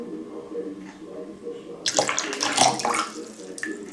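Lukewarm water tipped out of a rubberized container, a hardware-store waterproofing coating: a faint low murmur gives way to a splashing, gurgling pour lasting a couple of seconds, close and fairly quiet.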